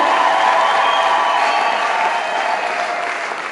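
A church congregation claps steadily in thanksgiving at a refugee city gathering in Rwanda, a dense, sustained wash of applause that eases slightly toward the end.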